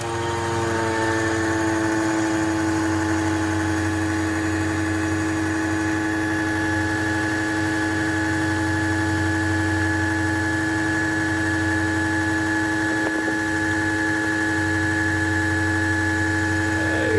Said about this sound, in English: let's turn on the fuel pump and see